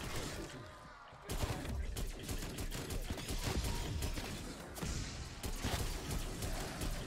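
Gunfire in the Call of Duty zombies map Die Maschine, with dense, continuous shooting at a zombie following a brief quieter lead-in, mixed with game effects and a busy background.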